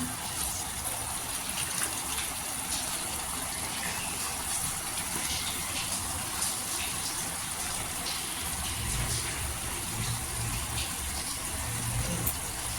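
Cut potatoes and water going into a cooking pan on the stove, a steady loud hissing gush of liquid and sizzle running throughout with faint clinks, close and continuous with no speech.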